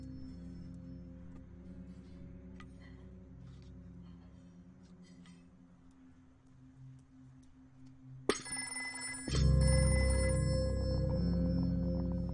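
A telephone rings indoors during a meal, a bright repeating ring that starts suddenly partway through and continues loudly over a low background hum.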